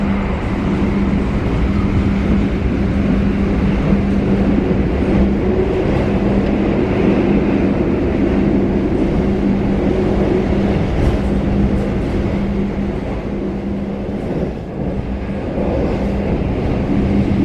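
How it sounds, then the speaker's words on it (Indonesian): Argo Bromo Anggrek express train running at about 115 km/h past Pringkasap station in Indonesia, a loud steady rumble and rolling roar with a sustained low hum, continuous throughout with no talk. "Argo anggrek melintas langsung Pringkasap"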